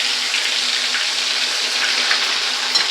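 Eggplant mixed with lentils fries in hot oil, giving a steady, close hiss and sizzle with no let-up and no voices.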